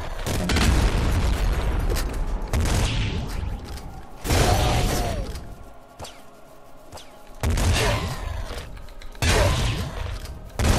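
Grenade rifle shots and their explosions in the video game Nuclear Throne: a series of booming blasts with whooshes and mechanical clanks, repeating every couple of seconds at loud, steady volume.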